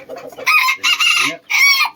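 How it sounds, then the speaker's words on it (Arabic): A male and female pair of ornamental chickens of Spanish origin cluck and crow loudly and close by, in three bursts with short gaps. "هذا كوبل ديال دجاج الانيق."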